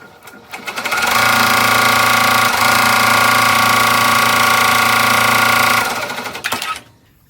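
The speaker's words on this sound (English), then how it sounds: "The first step that is going to stitch is the placement stitch." Embroidery machine running a placement stitch around the outline of each letter, a loud, steady, fast mechanical whirring hum that starts up, holds for about five seconds, then winds down and stops.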